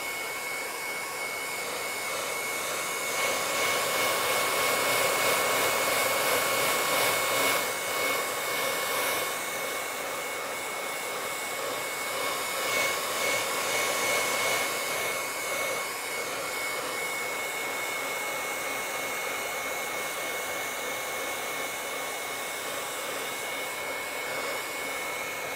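A hair dryer blowing continuously over artwork, a steady loud whooshing roar with a high whine, swelling slightly as it is moved back and forth, with no voices.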